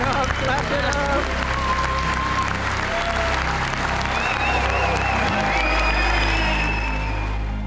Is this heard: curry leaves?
no